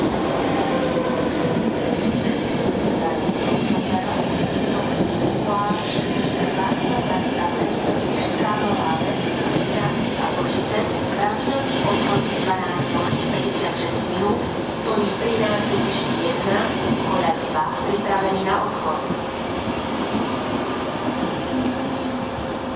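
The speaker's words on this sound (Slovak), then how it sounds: "prišiel k nástupišti 11, podaj 2. Medzištátny vlak Regionjet." A RegioJet international passenger train rumbles and hums at a station platform in Slovakia, with metallic clatter and faint squeals under a Slovak public announcement voice.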